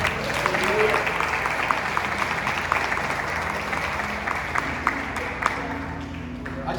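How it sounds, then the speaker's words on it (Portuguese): Steady clapping from a church congregation, sustained and fairly even, with voices and singing audible beneath it. "Dê um aplauso ao Senhor."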